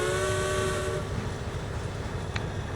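An O scale model train on an urban freight terminal layout sounds its whistle, a steady tonal blast held for about a second over a constant rumbling running-sound hum that carries on alone afterward.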